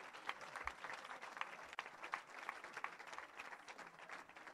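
A church congregation applauding, steady broadband clapping with some scattered louder claps, fairly close and sustained throughout without pause.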